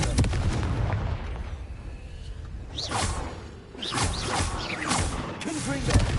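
In Hogwarts Legacy on PS5, the Confringo fire blast spell fires in repeated whooshing bursts with sharp cracking impacts, several blasts rising from a steady rumble of combat noise.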